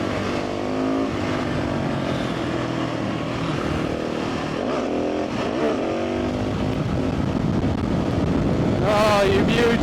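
A KTM 690 SMC R single-cylinder supermoto engine revs loudly and close, its pitch rising and falling through throttle blips with heavy wind buffeting, ending in a sharp climbing rev.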